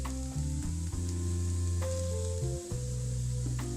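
Vegetables and partly boiled potatoes sizzle loudly in a pan for macaroni, a close continuous frying hiss over a low hum, with stirring scrapes and a brief dip as ingredients shift.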